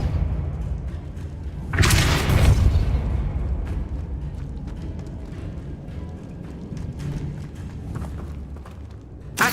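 Depulso spell cast in Hogwarts Legacy, a single heavy whooshing thud that strikes early and fades, followed by quieter scattered knocks and clicks of gameplay.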